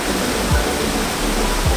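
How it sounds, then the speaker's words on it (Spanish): A waterfall in Barahona, Dominican Republic, cascades into a natural bathing pool with a loud, continuous roar, with a couple of brief low thumps under the steady rush. "es esta cascada, que con el tiempo la han venido convirtiendo en un balneario natural"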